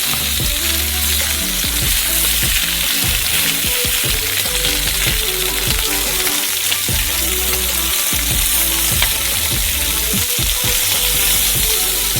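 Ribs searing in a frying pan on high heat as they are turned over: a loud, continuous crackling sizzle that fills the whole stretch, with a rhythmic musical pattern running underneath.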